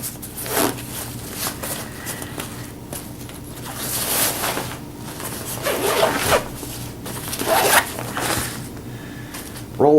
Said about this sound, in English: I'll zip that up later